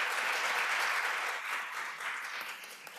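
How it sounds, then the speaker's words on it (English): A short burst of steady, enthusiastic applause from an audience, moderately loud and continuous. "Let's give them a round of applause again."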